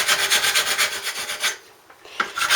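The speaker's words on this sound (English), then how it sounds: "Just going to grind back some of the paint." Paint being ground back off bare metal to prepare it for welding: a harsh, close rasping in steady pulsing strokes that stops briefly, then starts again, with no talking.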